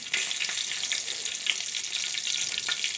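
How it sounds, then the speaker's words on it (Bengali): Hilsa fish sizzling in frying oil, a dense, continuous crackling hiss up close with a few brief spatters popping out. "এই ইলিশ মাছ ভাজার তেলের মধ্যেই আমি দিয়ে দেবো এক এক করে"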